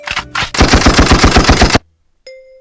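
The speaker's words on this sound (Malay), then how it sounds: "Ni bunyi tembak." Gunshot sound effect played from a V8 USB soundcard: a single sharp shot followed by a rapid burst of about a dozen loud automatic-fire cracks, then silence and a brief steady tone.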